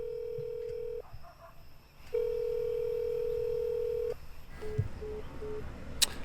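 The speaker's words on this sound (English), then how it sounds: "I'm gonna phone Kyle because I don't know where he is" A steady telephone dial tone sounds while a call is placed from a phone, pausing briefly and resuming, then giving way to a few short dialing beeps and faint background noise.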